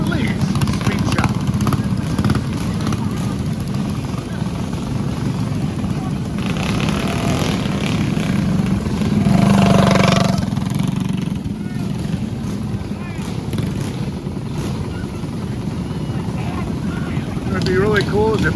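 Mini bike engines drone continuously at a 2025 mini bike race in Symco, Wisconsin, with a steady buzzing roar that swells and fades slightly as the bikes pass, heard through heavy wind noise.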